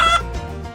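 Chickens on a dairy farm giving a brief cluck, one short, close, loud call followed by a fading tail.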